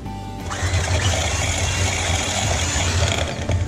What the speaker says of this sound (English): we're gonna beat them with an electric mixer until they're smooth